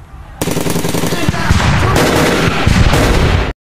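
A loud, sudden burst of rapid police gunfire erupts and continues in dense volleys for several seconds before cutting off abruptly.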